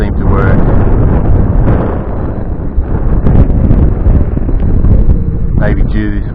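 Wind buffets the microphone in steady, loud, broadband rumbling while a TYH TY-16 Phantasm toy drone, a DJI clone, flies outdoors; the gusting roar continues without pause, with a brief whine near the end.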